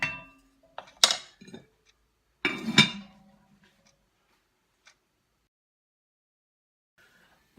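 A utensil stirs chopped onion and spring onion in a pan, giving a few sharp scraping clinks and taps early on, then falling mostly quiet with one faint knock later.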